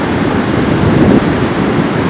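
A warm east wind buffets the microphone on the beach at Lagos, Portugal, in a loud continuous roar with surf blended underneath and no pauses.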